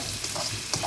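Food sautés in a hot pan in a home kitchen, a brief close burst of sizzling with a couple of quick scraping stir sounds.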